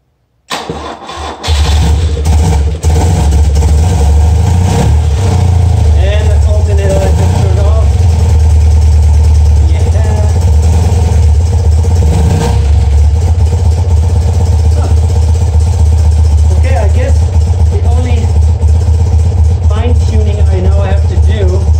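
A BMW Airhead motorcycle engine, just back from an alternator repair, cranks and starts in a garage, then settles into a steady, loud, continuous running note with slight rhythmic variation.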